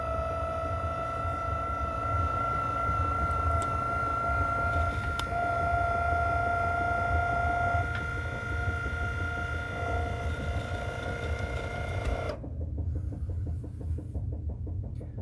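Arduino-controlled electric linear actuator extending with position feedback, giving a steady tonal motor whine for about twelve seconds before cutting off abruptly into near silence.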